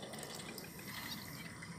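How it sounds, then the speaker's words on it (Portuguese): Water trickles and pours into a fishing trap container dipped at the water's edge, a soft steady wash with no one talking. "Eu deixo a água entrar um pouquinho"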